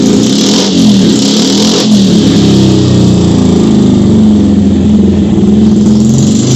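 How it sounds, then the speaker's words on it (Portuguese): A tuned 160 cc motorcycle engine revs hard on a dynamometer, a loud, sustained buzzing drone that holds steady with slight rises in pitch throughout, close and alone with no talk. "eu vou passar essa moto no Dyna para vocês verem a potência dela"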